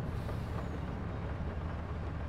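A truck in Farming Simulator 22 gives off a steady, low engine rumble with faint hissing. The sound is continuous, quiet and somewhat distant, with no voices.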